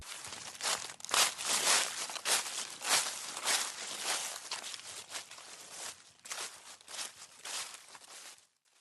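Footsteps and manual work among fruit trees in a New Zealand orchard: close rustling, crunching and crinkling of leaves and foliage, with shuffling steps and handling noises that swell and fade.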